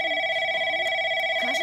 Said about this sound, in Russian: Кажется, нам кто-то звонит.